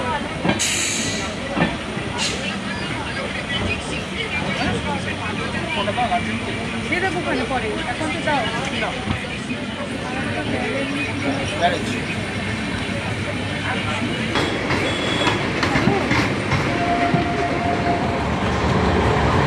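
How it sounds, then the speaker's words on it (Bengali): A passenger train rushes along the rails in India toward New Jalpaiguri, its wagons rattling with a steady clickety-clack under a continuous loud rumble and hiss, heard from inside the carriage. "ট্রেন ছুটে চলেছে"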